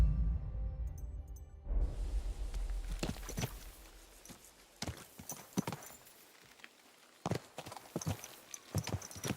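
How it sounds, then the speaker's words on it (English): Video game horse hooves clip-clop at a walking pace, sharp separate strikes in an irregular rhythm, close by, after a short burst of music fades out. "My, what a beautiful horse."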